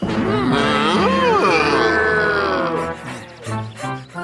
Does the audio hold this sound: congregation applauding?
no